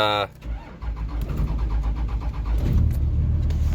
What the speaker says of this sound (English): this cold start.